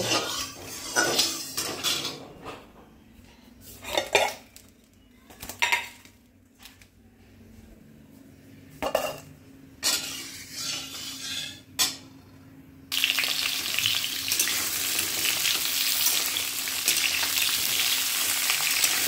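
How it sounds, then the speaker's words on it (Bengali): Pointed gourd frying in hot oil in a wok: bursts of sizzling with clattering utensil and stirring knocks, then a loud, continuous close-up sizzle takes over for the last several seconds. "এবার আমি এর মধ্যে পটলগুলো লাল করে ভেজে নেব।"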